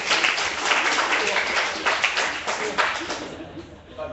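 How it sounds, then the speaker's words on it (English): Dense applause from a crowd, many hands clapping at once in a steady wash that fades slightly toward the end. "Yo, clap."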